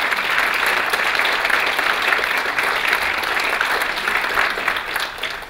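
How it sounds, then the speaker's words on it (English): A stage audience at an elevator pitch competition gives the pitch contestants a sustained round of dense, even applause that holds strong throughout and tapers slightly at the end. "how about one more round of applause?"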